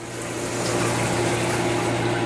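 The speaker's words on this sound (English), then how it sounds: "that noise that you just heard is the pump. There's a pump underneath the sink. It's a compression pump." A compression pump under the sink of an underground bunker runs with a steady, loud mechanical hum that carries a constant low tone beneath a rushing, watery hiss, and no voices are heard.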